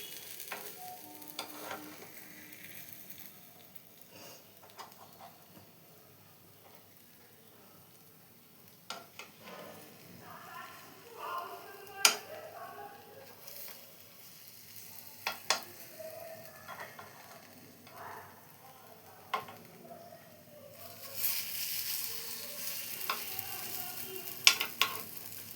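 Appam frying in a pan, a low sizzle running steadily underneath scattered sharp clicks and taps of a utensil against the pan.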